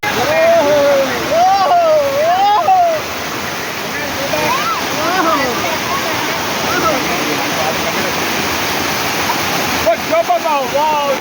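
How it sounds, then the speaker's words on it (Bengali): A mountain waterfall in Araku Valley roars steadily and close throughout, a dense wash of falling water, while people talk loudly over it at several points. "পাহাড়ি ঝর্ণার এই বিশুদ্ধ জলধারায় স্নান করতে পারাটা এ তো এক জীবনের অন্যতম পরম প্রাপ্তি।"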